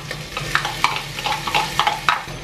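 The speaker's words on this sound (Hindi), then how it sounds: "तेल हमारा गर्म हो गया, डाल देंगे लहसुन अदरक" Garlic, ginger and onion frying in hot oil in a home kitchen for a sweet pumpkin curry, with steady sizzling and several short scraping stirs of a spatula against the pan.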